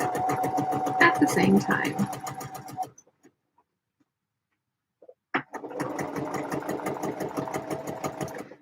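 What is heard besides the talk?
sewing machine sewing construction seams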